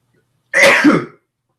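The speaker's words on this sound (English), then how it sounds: "I gotta sneeze some lot today" A single short sneeze bursts out abruptly from a quiet background, loud and close, then fades within about half a second.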